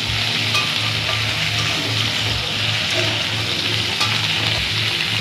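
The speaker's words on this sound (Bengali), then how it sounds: "এরপর আমাদের কুমড়ো টুকরোগুলোকে আমরা এর মধ্যে দিয়ে আবার ফ্রাই করে নেব।" Pumpkin pieces fry in a pan with a loud, continuous sizzle and crackle, steady throughout, with faint stirring and no talking.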